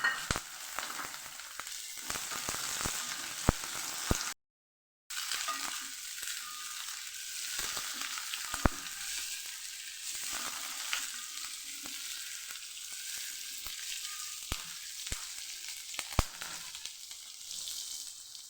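Ivy gourd (tindora) and chillies frying in a pan, a steady loud hiss with occasional sharp pops and crackles, close up throughout with one brief gap.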